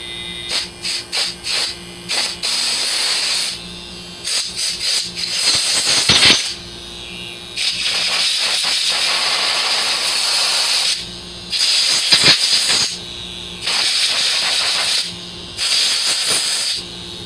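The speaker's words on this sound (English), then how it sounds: "Well, I'm just going to give it a blast of air." Compressed air is blasted through a fuel injector from a 1997 Lincoln Continental in a series of loud, close hissing bursts, some short and rapid, others held for a second or more, separated by brief silences.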